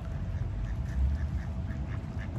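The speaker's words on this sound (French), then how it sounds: "Et là, je vous montre les canards." Ducks quacking outdoors, a few soft scattered quacks over a steady low background rumble, fairly distant and faint.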